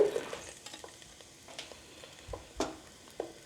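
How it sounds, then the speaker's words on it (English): Eggplant with salt cooking in a hot pan, a faint, low sizzle broken by scattered scrapes and knocks of stirring, with no one speaking. "once it's hot, we're going to add the eggplant in with a 1/4 teaspoon of salt"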